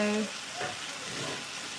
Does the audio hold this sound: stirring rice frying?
yes